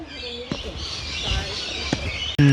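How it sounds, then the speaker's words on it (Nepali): Birds chirp among the trees of Melbourne's Royal Botanic Gardens, a busy outdoor ambience of scattered calls that sits under people talking nearby. "चराहरू छ क्या पुरा चराहरू छ जस्तो छ है त।"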